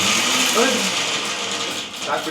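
A kitchen mixer grinder whirring as it blends vegetables, a loud, steady mechanical drone that holds for the whole stretch with slight wavering.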